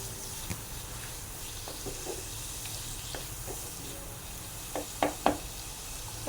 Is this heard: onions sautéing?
yes